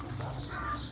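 A broody Aseel hen clucks softly against a steady low background rumble, with a brighter, louder call rising right at the end.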